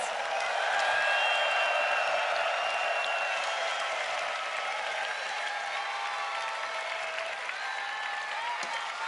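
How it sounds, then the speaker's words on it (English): A huge arena crowd at the Eurovision Song Contest 2014 grand final in Copenhagen applauds and cheers, a loud unbroken roar of clapping and whoops that holds steady throughout. "Give yourself a big round of applause."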